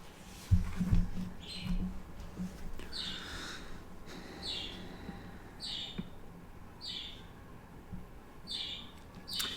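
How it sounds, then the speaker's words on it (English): Pet bird chirping indoors, a series of short bright chirps repeated at a steady pace roughly once a second over a quiet room hum, with a few low knocks near the start. "we do have a bird. If that's not your thing, sorry, but he chirps."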